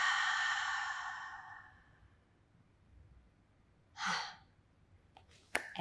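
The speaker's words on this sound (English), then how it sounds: "Exhale." A deep exhalation during a beginner Pilates breathing exercise for mothers: one long, soft breathy outbreath that fades over about two seconds, then quiet with a brief breath later.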